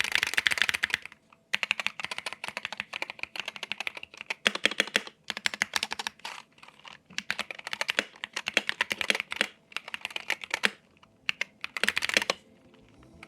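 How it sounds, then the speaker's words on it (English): Close-up typing on a Wooting 60HE keyboard with magnetic switches: quick bursts of crisp keystrokes broken by brief pauses, with no one speaking. "And if you're curious, this is what it sounds like."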